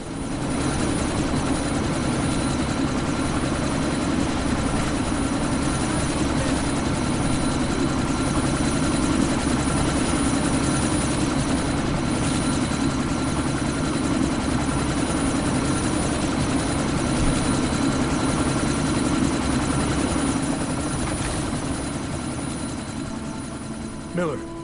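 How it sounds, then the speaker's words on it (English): A helicopter from the video game Deus Ex: Mankind Divided drones steadily with a low, thick rotor and engine rumble for the whole stretch, loud and constant, with voices talking over it. "That chopper's about to take off."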